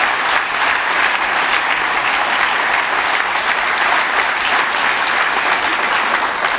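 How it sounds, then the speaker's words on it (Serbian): Sustained, steady applause from a crowd at a political convention in Vršac, honouring the employees of the local vineyards; many hands clapping at close range, even and unbroken throughout with no talking. "ja vas molim jedan veliki aplauz za sve zaposlene ljude u vršačkih vinograda"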